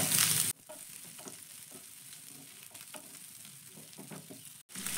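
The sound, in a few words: capsicum and onion frying with ginger garlic in pan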